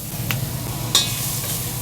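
Carrot and onion sauté in a little vegetable oil in a clean pot, giving a soft, steady sizzle with a couple of brief clinks of a utensil stirring, and no talking.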